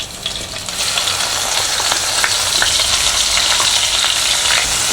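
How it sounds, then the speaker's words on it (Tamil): Onion, ginger and garlic paste frying in a pan, a steady loud sizzle with crackling spatters throughout, close up and without any voices. "இப்போ வந்து பேஸ்ட் நம்ம ஆல்ரெடி வெங்காயம், இஞ்சி, பூண்டு அரைச்சி வச்சுக்கிறது போத்திடுறோம்"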